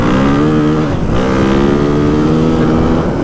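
A 2025 Honda CRF450R dirt bike engine held at wide open throttle, a loud, close, continuous harmonic roar with a slight dip in pitch midway.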